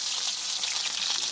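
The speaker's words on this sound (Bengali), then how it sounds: "এই রসুনগুলোকে ভেজে নেব।" Garlic frying in oil in a wok, a steady close crackling sizzle with no talk.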